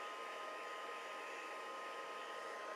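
Hair dryer drying stamped ink on paper for a craft project, a steady continuous whoosh, close and even, with no talk.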